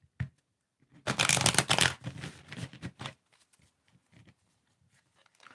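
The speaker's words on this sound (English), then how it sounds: "but let's shuffle the deck." A tarot card deck is riffled and shuffled close up in a burst of about two seconds of crisp flapping, followed by a few quieter taps and shuffles as the cards settle.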